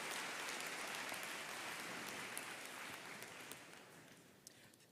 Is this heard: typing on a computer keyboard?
no